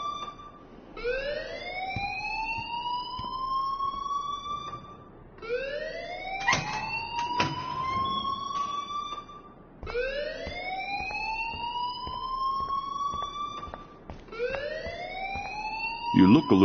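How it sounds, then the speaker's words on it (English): A fire alarm in the video game Life is Strange wails in repeated rising sweeps, each climbing and holding before restarting, loud and continuous with brief clicks and thumps between cycles. "please turn off that alarm"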